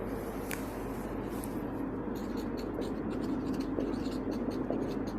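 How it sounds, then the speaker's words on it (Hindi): Chalk or marker scratches steadily across a classroom board during an agriculture lesson, a soft, close, continuous scraping with brief taps and no clear speech. "चलिए इसके अंदर अपने लिखते हैं"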